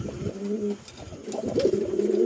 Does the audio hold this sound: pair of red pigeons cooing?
yes